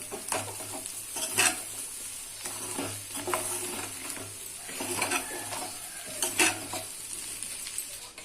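Spiced potato pieces are stirred in a frying pan, a utensil scraping and clinking against the metal in repeated strokes over a steady sizzle, close and fairly loud.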